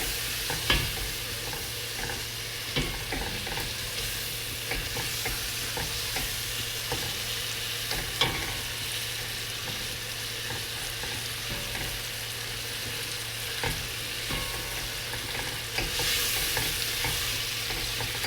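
Chicken and masala are stirred in a frying pan for chicken machboos, with a steady loud sizzle under repeated scraping and clattering strokes, and no talking.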